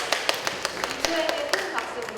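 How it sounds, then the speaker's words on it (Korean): Scattered hand claps from a small audience follow a group presentation at a youth-politics discussion event. The claps are distinct and sparse rather than a full ovation, with a few voices and faint tones underneath. "일조에게 큰 박수 보내주시기 바랍니다"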